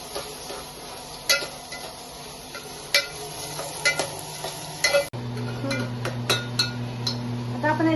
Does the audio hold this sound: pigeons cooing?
no